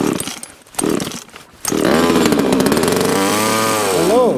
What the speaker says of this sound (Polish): Mam piłę, zobaczymy czy piła odpali na takim mrozie.